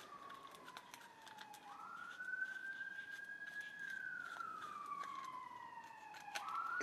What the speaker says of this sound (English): I can hear the police siren.